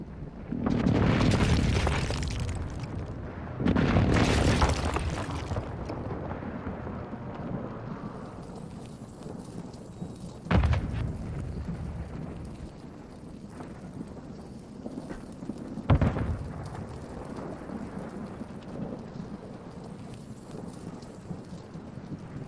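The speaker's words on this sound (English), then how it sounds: "Enemy precision airstrike." Explosions from an enemy precision airstrike in the Warzone video game: two long, heavy rumbling blasts at the start, then a steady roaring wash broken by two sharper distant booms.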